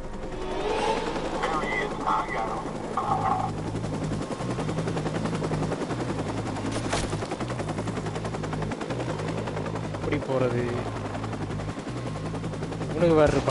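AK-47 fire in Watch Dogs: repeated machine-gun bursts in a steady rhythm under game ambience, with voices talking throughout.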